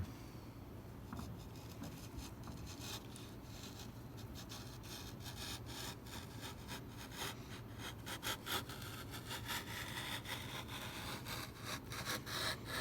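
Steady close rasping and scraping as a strut is trimmed away at an apex while the back struts and reinforcement strip are shaped, a continuous abrasive cutting texture that grows slightly busier toward the end.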